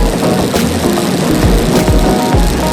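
A motorcycle engine labors up an incline, close and loud, its rough, steady drone broken by a few lower surges as the throttle shifts.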